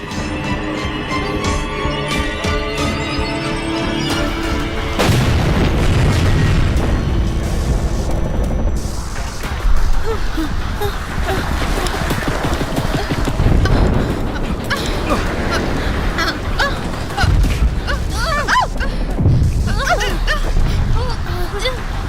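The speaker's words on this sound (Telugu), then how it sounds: "అయ్యో బాంబు!" A bomb goes off in a Telugu-dubbed apocalyptic war film scene, a sustained deep rumbling boom that swells after about five seconds and rolls on under music and shouting voices.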